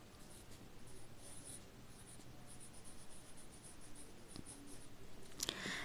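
Pen or pencil writing an answer by hand on a maths worksheet about solid shapes, a faint continuous scratching with brief strokes, close and quiet, with no talk over it.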